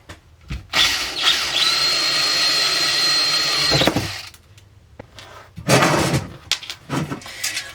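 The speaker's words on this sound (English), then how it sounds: "Now I got to drill out those tube sockets and get those out of there." A loud power drill whines steadily for a few seconds drilling out tube sockets on an amplifier chassis, then stops. Clunks and short rattling bursts of tool handling follow nearby.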